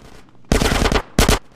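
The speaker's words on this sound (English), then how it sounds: "Get some suppressing fire in there." Two bursts of rapid automatic gunfire in GTA San Andreas, a loud half-second rattling volley followed after a brief gap by a shorter burst, close and dense.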